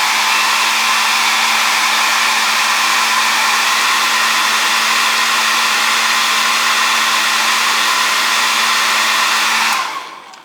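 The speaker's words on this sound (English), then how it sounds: "if you have a hair dryer somewhere in your life, and chances are you do, it's simply an opportunity to just flip this thing on." A handheld hair dryer blows steadily up close while drying acrylic paint, a loud, even whooshing whir with a faint motor hum that runs unbroken before cutting off at the end.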